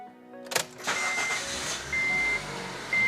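A car engine cranks with a short sharp burst, catches and settles into a steady idle, overlaid by repeated electronic beeping tones in regular pulses.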